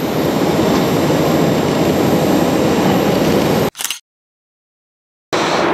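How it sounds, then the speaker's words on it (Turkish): Jet engine of a Korean Air airliner at Istanbul Airport, a loud steady roar filling the first few seconds, then cutting abruptly to silence before returning near the end. "şimdi Kore Hava Yolları'nın uçağını yakalamaya çalışacağım ama biraz geç kaldım sanırım"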